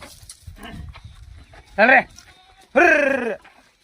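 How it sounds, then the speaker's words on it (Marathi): Two large Katewadi goats bleat on a goat farm, giving two loud, wavering calls about a second apart, nearby, with softer murmurs of voices underneath beforehand. "पहा आपल्याकडे टॉप क्वालिटीच्या मोठ्या मापाच्या 2 काटेवाडी शेळ्या आहेत"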